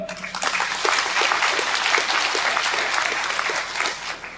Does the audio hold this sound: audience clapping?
yes